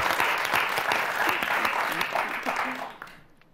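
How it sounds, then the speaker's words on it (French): A French television game show's studio audience bursts into loud, sustained applause for the contestants, the clapping holding steady before fading out at the end. "On vous applaudit très très fort."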